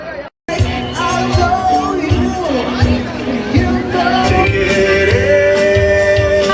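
A dense crowd chattering all at once, loud and continuous, with overlapping voices and occasional raised shouts in a busy space.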